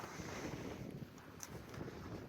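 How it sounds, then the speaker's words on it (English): Gusty outdoor wind of about 20 mph buffets the microphone during house siding work, a steady rushing roar with no pauses across the whole stretch. "It's windy out here today."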